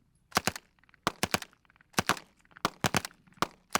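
A Schmeisser machine pistol fires in several short, sharp bursts of two or three rounds, each crack close and loud, separated by brief pauses.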